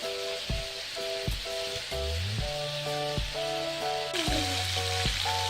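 Salted fish frying in oil, a steady close sizzle and crackle running beneath a melodic background tune throughout.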